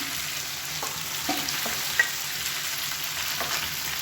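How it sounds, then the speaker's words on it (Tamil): Okra sizzles and fries in oil in a wide pan, a steady close crackle with occasional small pops and a brief clink, no voices. "இப்போ நம்ம ஊற வச்சுருந்த வெண்டைக்காயை சேர்த்துக்கலாம்."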